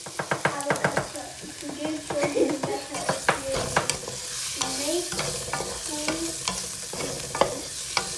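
Chopped onion and pepper sautéed in hot oil with asafoetida in a pan, loud crackling sizzle under repeated spoon stirring and scraping strokes against the metal, close up, with no one talking.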